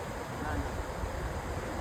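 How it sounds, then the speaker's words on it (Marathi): Sea waves wash ashore on a beach at night as a low, continuous rushing surf that stays fairly quiet and even for the whole stretch. "पाणी बघा आली आली लाट आली लाट आली लाट"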